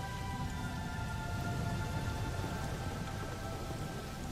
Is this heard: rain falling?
yes